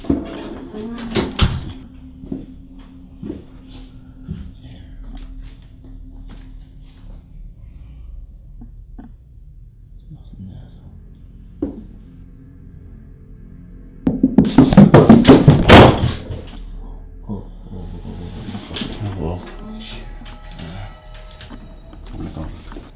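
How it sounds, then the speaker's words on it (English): Footsteps thud near stairs inside a house late at night, followed by a loud, close door slam and rattle that stands out from the quiet room, with faint knocks and creaks around it. "The sound of the closed footsteps along with the door closing right next to him is bound to keep anyone up at night."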